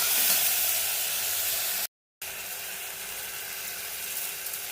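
Tomato frying with salt in a pan produces a steady, even hiss close by, broken by a short moment of silence partway through.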